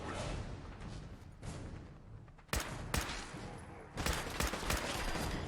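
Gunfire in the video game Fallout 4, with several sharp shot bursts and rattling volleys standing out against a steady rumbling background.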